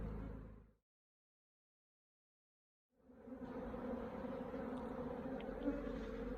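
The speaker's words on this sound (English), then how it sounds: "these bees are going into their new box now" A dense, steady buzzing of many honeybees at a hive box fills the air after a brief silence, close and continuous with a few louder passes.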